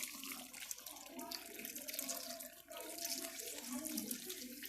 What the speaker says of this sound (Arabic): هحط هنا شويه ميه مغليه